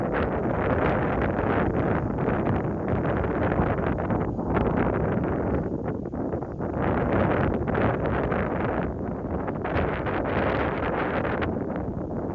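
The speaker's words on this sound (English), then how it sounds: "Now it's quite windy today, but that's actually why I'm out here." Strong wind at the water's edge buffets the microphone in a constant heavy roar that swells and eases slightly, with no voices.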